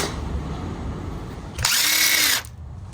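A power tool drives an intake manifold bolt on a Mercury Grand Marquis 4.6L engine, with one loud, close burst of about a second of whirring that winds up and then cuts off against a quiet garage background.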